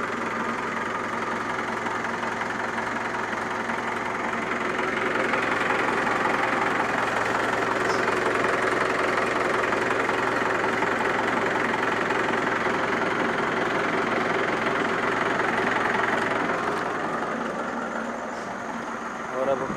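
A Mahindra 575 tractor engine idles low and steady, a continuous diesel chug that swells slightly midway, with no talking over it.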